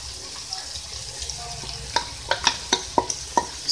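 Fried cumin potatoes with green chillies and chopped coriander are stirred in a pan over a low sizzle, with a run of sharp, close spoon clinks and scrapes coming in quick succession.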